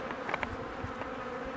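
Honey bees humming steadily around an open small-cell hive during treatment-free beekeeping work, a quiet continuous buzz with a few brief louder passes near the start.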